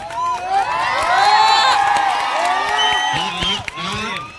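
A crowd in Jasdan cheers and whoops, with children shouting and scattered clapping, a loud, busy swell of voices with talk mixed in.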